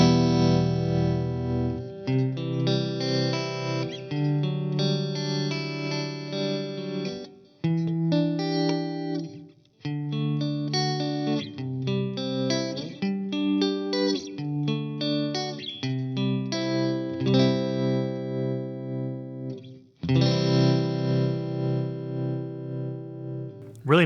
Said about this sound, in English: So this is just a Joyo tremolo.